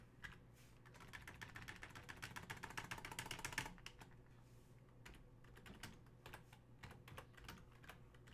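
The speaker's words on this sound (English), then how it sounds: "and I'm going to type it in the box." Rapid, irregular clatter of fingers on a computer keyboard, close and fairly quiet, with a dense burst of keystrokes followed by sparser individual taps and short pauses.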